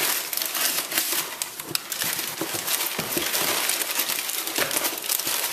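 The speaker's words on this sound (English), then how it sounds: "let's go ahead and cut this open" A shipping package holding a digital food thermometer is cut open and unpacked, giving steady crinkling and rustling of packing material with irregular crackles, close and fairly loud throughout.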